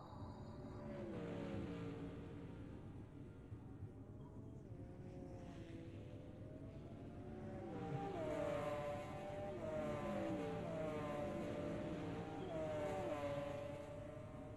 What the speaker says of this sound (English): I think I hear the other cars coming.